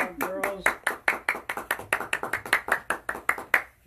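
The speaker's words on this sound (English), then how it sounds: "while we're clapping" An audience claps after a children's reading, a steady run of sharp hand claps close by, with a few voices heard at the start.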